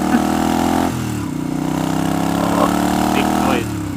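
A motorcycle engine runs loud and close with a steady throbbing hum, its pitch stepping down and back up as the throttle shifts, with faint voices underneath.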